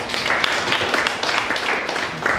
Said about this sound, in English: can we give this man an applause